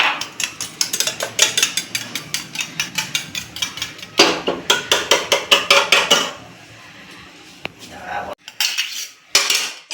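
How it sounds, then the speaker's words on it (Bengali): Two eggs cracked into a bowl and beaten with a little salt in a home kitchen, heard as a rapid, regular clatter of a utensil against the bowl, loud and close, pausing briefly near the end. "ডিমটা ফাটিয়ে নিচ্ছি অল্প করে নুন দিয়ে দিচ্ছি"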